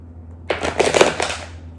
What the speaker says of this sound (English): as I begin to shuffle the decks